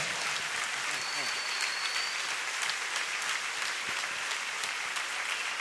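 Dense applause from a church congregation after a Coro Menap choir performance in Puerto Madryn, Argentina, in 2016, a sustained wash of clapping that fills the room at an even level, with faint voices mixed in.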